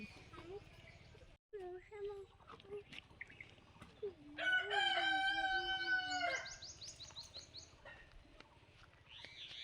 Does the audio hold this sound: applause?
no